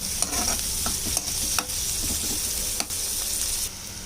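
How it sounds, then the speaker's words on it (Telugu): Chopped onion sizzles in a hot pan while a spoon stirs it, giving a steady close frying hiss with repeated soft scraping strokes and no talk. "ఇది బాగా వేగిన తర్వాత క్యారెట్ వేసుకోవాలి."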